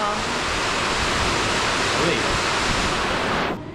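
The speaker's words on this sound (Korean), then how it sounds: "와, 아, 비가 엄청 온다" Heavy rain pours steadily during a tour day in Cambodia, a dense, unbroken roar that fills the scene up close and cuts off near the end.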